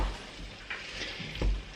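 Spiced minced meat with tomato paste cooks gently in a pan over medium heat, giving a soft, steady sizzle. A couple of light stirring scrapes sound close by.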